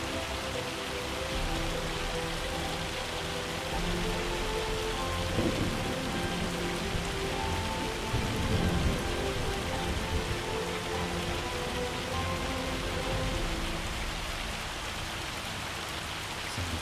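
Heavy hail and rain pound down steadily in a farming video game storm, with a dense continuous wash of impacts and a couple of low thunder rumbles swelling midway, no voices.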